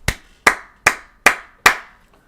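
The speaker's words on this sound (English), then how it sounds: "Let's go ahead and give a round of applause." Five sharp hand claps, close and evenly spaced about a beat apart, each ringing out briefly with nothing else behind them, during a live stream about a wrestling event.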